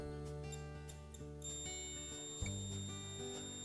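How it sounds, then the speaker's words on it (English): A multimeter continuity tester on a dryer thermal fuse emits a steady electronic beep that starts partway through and holds continuously, close and clear with no talking. "when you put your two leads together, you'll hear a beep"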